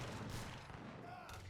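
Musket volleys and cannon fire in an Age of Empires III battle, a dense crackle of overlapping shots and booms under a busy game soundscape, with faint voices mixed in.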